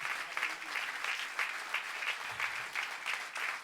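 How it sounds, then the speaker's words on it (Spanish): A church congregation claps in praise during a Spanish-language service. The steady, rhythmic group applause keeps going throughout, with a slight pulsing rise and fall. "De ese aplauso de alabanza al Señor."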